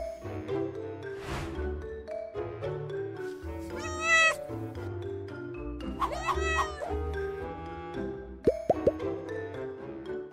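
A small kitten gives several high, wavering meows, first a short one and then a longer cluster, with one last cry near the end. The meows sit close and clear over a steady musical background.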